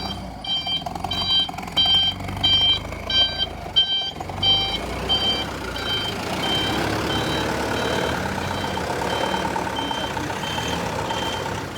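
A vehicle backing up sounds a steady train of high, evenly spaced reversing beeps over a loud rumbling engine outdoors, with the beeps fading into the engine noise as it goes on.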